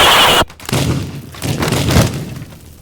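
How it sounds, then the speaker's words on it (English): Fireworks going off inside the destruction game Teardown: a loud sharp bang followed by a dense rolling crackle of bursts and debris, staying loud across the whole burst with no talking. "I'm gonna do 5 fireworks in here because why not?"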